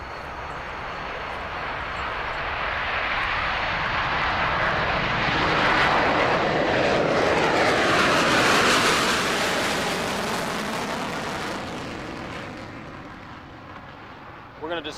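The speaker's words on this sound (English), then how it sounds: "higher tech than the B-52 is the B-1B Lancer." A B-1B Lancer bomber roars past at an air show, a broad jet rush swelling to a peak midway and fading away as it recedes.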